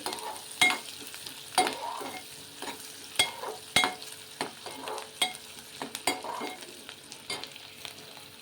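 Ingredients frying in a pan until golden, with a steady sizzle under repeated sharp scraping stirs of a utensil against the pan, close and fairly loud.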